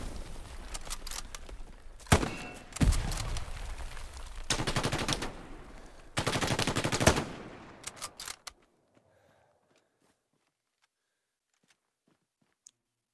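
Dense automatic and rifle gunfire in the World War II shooter Hell Let Loose, several loud bursts of rapid shots for about eight seconds before cutting to near silence.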